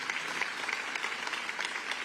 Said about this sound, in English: Ashley gets a round of applause as well.